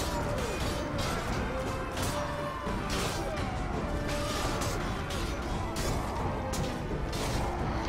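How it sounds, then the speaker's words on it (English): Steady, dense melee battle noise from a siege in the Warband mod A Clash of Kings, with repeated smashing and thwacking hits over a constant loud crowd din. "what we're going to do now is just continue smashing these dudes' faces"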